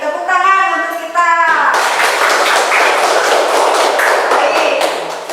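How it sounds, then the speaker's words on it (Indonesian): Fifth-grade pupils applaud in their classroom, a steady dense wash of clapping that follows a brief sung or chanted phrase and carries on loudly for several seconds. "Tepuk tangan untuk kita."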